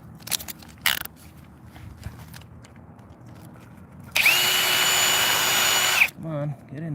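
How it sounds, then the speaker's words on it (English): A power drill whirs loudly in one sustained burst of about two seconds during track maintenance, preceded by faint knocks and tapping, and a voice speaks briefly right after. "Pop this drill off, pop this drill on."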